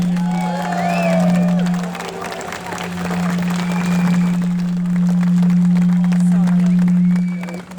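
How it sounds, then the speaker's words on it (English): A crowd at an outdoor protest against G30 engineering claps and cheers for Francis, a steady round of applause over a constant low droning hum, with voices mixed in. "Did we give Francis a good round of applause?"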